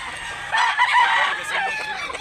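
Chickens and a rooster at a chicken market in Mantalungon, Barili, Cebu: a loud, close rooster crow rises over clucking and general market background.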